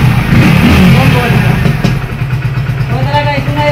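A Hero Splendor Plus BS6 motorcycle engine runs after a self-start, with a steady low idle chug close by and someone talking over it.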